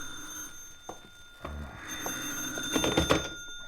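Old-time radio drama telephone ringing as a sound effect: a bell-like ring with steady tones that swells into louder bursts near the end, heard alone without talk.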